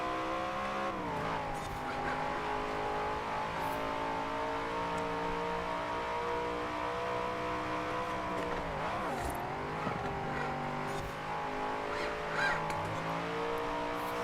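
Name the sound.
car engines racing in video game Forza Horizon 4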